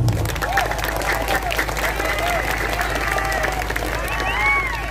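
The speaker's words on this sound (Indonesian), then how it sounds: "Tepuk tangan untuk pejuang mahar" Audience applause at an Indonesian religious sermon, a steady wash of clapping from a crowd with light cheering and murmuring mixed in, fairly loud and continuous throughout.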